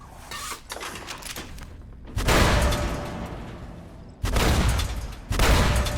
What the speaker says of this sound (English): Look at it go. Very much a fireworks launcher.